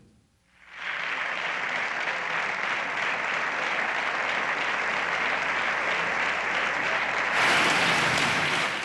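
Loud, sustained applause from a large crowd that rises quickly and holds steady, swelling slightly near the end.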